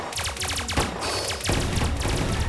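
Rapid bursts of gunfire aimed at aircraft in the game Guardian Tales, dense machine-gun volleys rattling in quick succession, loud and close, with a brief gap near the middle.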